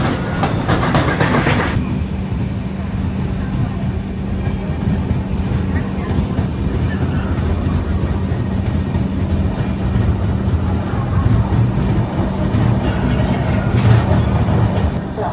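Goods train hauling alumina rolls past at close range, a loud continuous rumble of wagons with rhythmic clickety-clack of wheels over rail joints throughout, sustained and steady without talk.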